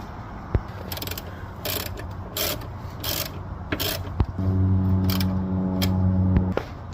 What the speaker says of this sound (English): So just torque up your bolts.